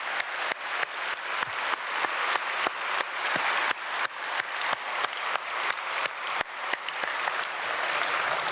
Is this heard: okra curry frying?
no